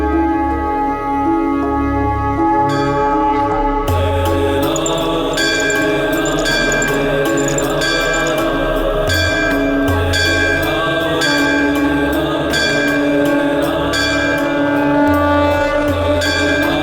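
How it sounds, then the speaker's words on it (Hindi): A temple bell rings loudly at night, with repeated metallic strikes ringing out over a sustained, dense musical backdrop. "इतनी तेज ध्वनि में घंटी बजा रहा है"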